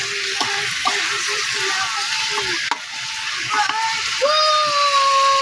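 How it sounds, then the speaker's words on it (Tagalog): Chicken sizzles steadily in a pan while being sautéed for adobong manok, with intermittent scraping and stirring clatter from a utensil against the pan and a few faint tonal squeaks toward the end. "gisahin mo"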